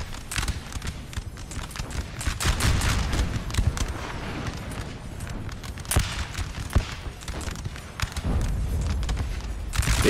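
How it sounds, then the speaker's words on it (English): Booming artillery fire in the Napoleonic-era strategy game Napoleon Total War, heavy cannon blasts thudding repeatedly at irregular intervals over a constant battlefield rumble, some shots near and loud, others more distant. "The artillery must be targeting this position."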